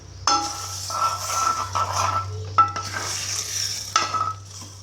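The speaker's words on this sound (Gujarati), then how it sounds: "બધું બરાબર મિક્સ કરી દઈશું." A spoon stirs Dhaba-style dal fry in a pot just after a hot tadka is poured over it, giving soft scraping and clinking strokes over a faint sizzle and a steady low hum.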